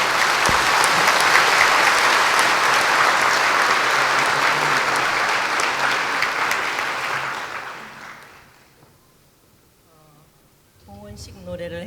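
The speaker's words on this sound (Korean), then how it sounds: "박수요, 박수." Audience applause at a church dedication ceremony, loud and sustained for about eight seconds before fading out, followed by someone speaking.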